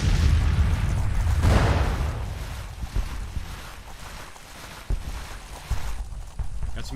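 Artillery fire from a Civil War battle at Antietam in Grand Tactician: The Civil War, with a heavy low rumble of massed guns at first that thins into scattered distant booms and a few sharper reports.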